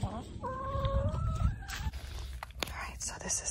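A hen clucks close by in a backyard, making a rising, drawn-out cackle of several calls with more clucks and shuffling noises after, while a person talks quietly underneath.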